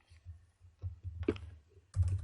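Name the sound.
typing on a computer keyboard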